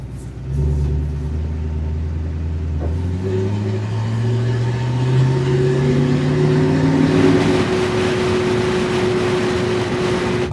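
A restored 60-year-old car drives steadily, its engine rumbling loud and close throughout, the pitch climbing as it revs up through gears and then holding a steady drone.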